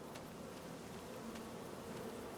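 Bees buzz around beehives in Farming Simulator 25, a continuous, soft, dense hum of many insects at a steady level with no talking.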